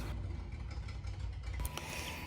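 Jeep Comanche MJ 4x4 engine running with a leaking exhaust, a steady low rumble close by, with a brief clank near the end.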